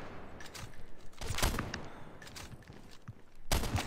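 Gunfire in Call of Duty: Mobile during a one-versus-one match: several sharp, loud bursts of shots come in quick clusters over a noisy in-game background, with no talking.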